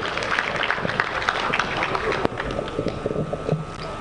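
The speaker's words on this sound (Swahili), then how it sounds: "naomba tumpigie makofi mengi sana Katibu Mkuu wetu" A crowd claps steadily for a Permanent Secretary at the opening ceremony of the 46th Sabasaba international trade fair. The applause is a dense, moderately loud patter with a murmur of voices in the background.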